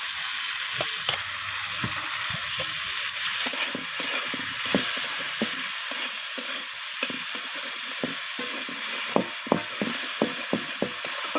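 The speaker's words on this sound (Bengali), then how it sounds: "টমেটোটাকে দিয়েও এইভাবে ভাজা ভাজা করে নিচ্ছি সব কিছুর সাথে।" Chopped tomatoes fry in a pan with salted vegetables for a vegetable dal, giving a steady, close sizzle broken by repeated sharp taps and scrapes of stirring.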